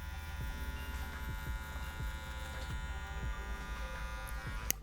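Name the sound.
hair trimmers cutting hair during skin fade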